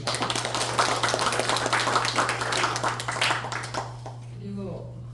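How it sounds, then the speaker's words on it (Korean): Members of a literary society clap together at a general meeting for a few seconds, the applause steady and moderately loud before it tapers off into quiet room sound. "우리 회원님들 한번 박수를 좀 부탁드립니다."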